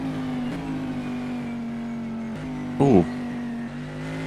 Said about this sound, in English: just listening to Justin's car as he's coming into the pits there, and I don't know if it was just slipping with the wet, but it didn't sound particularly healthy there